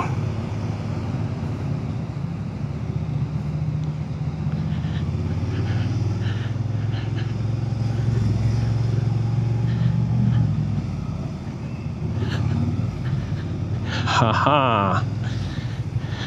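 A Suzuki SV650 motorcycle rides through traffic, its engine a steady low drone under wind rush and surrounding vehicles, with someone talking over it and a brief higher whine near the end.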